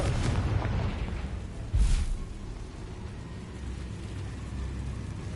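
A Confringo fire-blast spell cast in Hogwarts Legacy, bursting as one short, heavy boom over a steady bed of game ambience and rumble.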